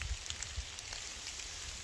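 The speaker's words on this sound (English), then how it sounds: "it's raining pretty good" Steady rain falling outdoors on a hilltop in late October in New York, a dense, even hiss with occasional heavier drops patterning the surface, continuous throughout with no voices.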